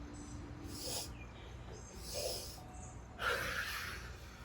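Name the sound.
deep inhales and big audible exhales in yoga breathing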